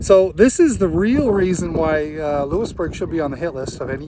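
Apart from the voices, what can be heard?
No everyday noises stand out.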